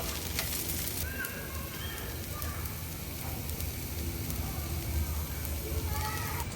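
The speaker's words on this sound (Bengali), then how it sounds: "মাটির বড় খোলাতে অনেক জোরে জোরে ছিটাই ছিটাই ভাজলে ভালো হয়" Chita pitha batter frying in a large clay pan, giving a steady, loud close-up sizzle with crackling spatter throughout, with faint voices in the background.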